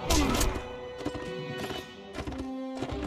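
Horse hooves clattering and a whinny during a charge in Mount & Blade: Warband, mixed with clashing game sounds and busy battle noise.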